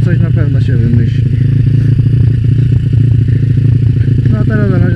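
A Yamaha quad ATV engine runs close by with a loud, steady low-pitched rumble and clattering mechanical ticks, while someone talks over it.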